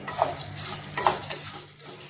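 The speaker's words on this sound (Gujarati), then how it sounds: "ધીમા ગેસે આપણે શેકી લેવાના છે" Cracked wheat roasting in ghee with spices over a low flame, a soft continuous sizzle broken by two brief clinks of a spoon stirring.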